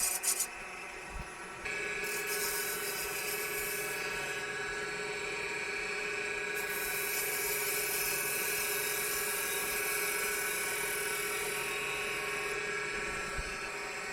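A spindle gouge cuts into a screwdriver handle spinning on a wood lathe, producing a continuous close rasping whir under the motor's steady hum that lasts about fourteen seconds with slight shifts in tone.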